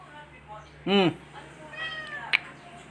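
A single clear cat meow rises sharply, followed by a fainter second mew and a short high squeak, over quiet background.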